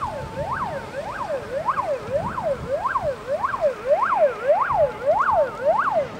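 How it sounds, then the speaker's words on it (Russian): A fire engine's wailing siren cycles rapidly up and down, about ten rises and falls, loud and steady over faint background rumble, as it arrives at a railway during a firefighting drill. "К железной дороге первой подъезжает машина пожарной части номер 4."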